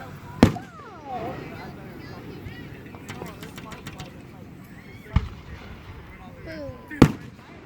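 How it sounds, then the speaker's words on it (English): Firework shells bursting over a celebration in Mexico, three sharp loud booms spaced a few seconds apart with crackling between, while people talk excitedly throughout. "louder the boom, the bigger they are"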